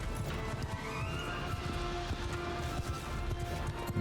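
Horse archers gallop in Mount & Blade II: Bannerlord, hooves clattering in rapid overlapping beats amid a battle din, with a horse whinny rising in the middle.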